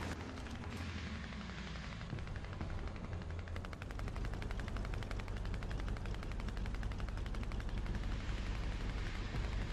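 Gunfire in a War Thunder tank battle: dense, continuous machine-gun bursts and rapid shots fill the mix loudly with no pauses, over a steady roar of battle noise.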